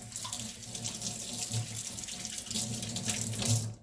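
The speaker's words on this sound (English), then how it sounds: "Wash my hands." Tap water running steadily into a sink while hands are washed in a kitchen, a soft continuous splash close by with no talk.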